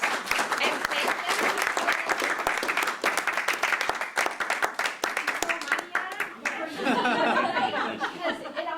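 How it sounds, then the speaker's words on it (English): A room of attendees at a 2022 Stratham Democrats candidates' night gives a sustained, dense round of clapping for the candidates, loud and continuous, with a murmur of voices rising as it fades. "can we just give them like a huge round of applause and thank them?"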